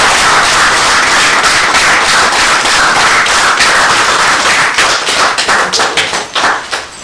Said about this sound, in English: Please can I have a round of applause for them?